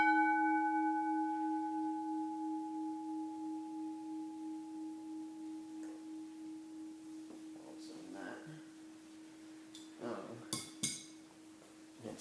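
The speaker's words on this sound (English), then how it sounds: "I'll just hit it with the shifter and we'll see." A Westinghouse hybrid bell struck with a shifter rings with a pure, steady tone that slowly fades and wavers as it reverberates, followed by a few faint clinks and knocks.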